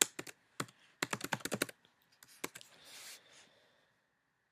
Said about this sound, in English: So just type in any text.